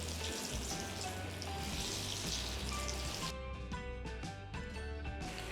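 Paneer balls deep-frying in hot oil over a low flame make a steady, dense bubbling sizzle throughout, with a denser bubbling patch near the end and no voices.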